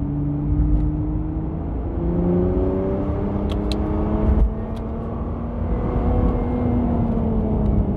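A Nissan GT-R Nismo supercar accelerates on a motorway, its engine droning loudly with rising gear-by-gear pitch sweeps and a brief shift dip, heard from inside the car.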